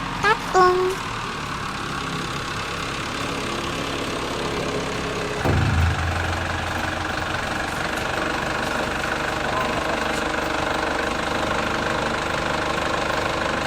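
A vehicle engine idles with a steady low knocking rumble, a short burst of revving as it sets off, then a continuous drone; a few brief background sounds come early on.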